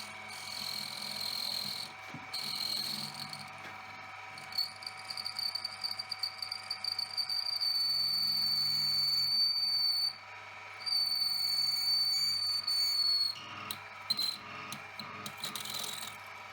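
A mill drills a 3.5mm hole into a metal pen body, giving a faint high steady whine with scraping cutting bursts that start and stop, heard close in a quiet room with no speech.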